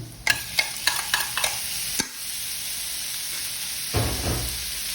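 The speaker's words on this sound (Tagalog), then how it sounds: "So ito po yung broccoli natin, lagay na po natin yan." Broccoli going into a hot pan and stir-fried for a crispy shrimp dish with vegetables: several sharp utensil clacks against the pan, then a steady hiss of sizzling oil, swelling again with a later stir.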